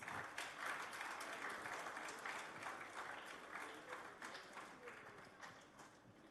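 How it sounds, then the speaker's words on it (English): An audience applauds an honoree at a workplace celebration, dense rapid clapping that starts strong and gradually thins and fades, with some voices mixed in. "Can we please have a round of applause"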